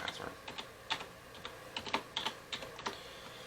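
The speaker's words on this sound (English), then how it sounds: "Let me type out my password." Fingers tap out a password on a computer keyboard, a quick irregular run of soft key clicks heard close and fairly quiet indoors.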